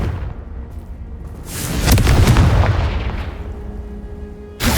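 A Confringo fire spell in Hogwarts Legacy erupts into a single heavy blast that swells into a rumbling roar, then fades, before a sharp new burst hits at the very end, loud and close.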